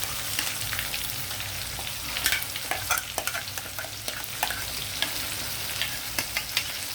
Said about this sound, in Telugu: కొంచెం ఒక 10 నిమిషాలు ఇలాగా నూనెలో వేగనివ్వాలండి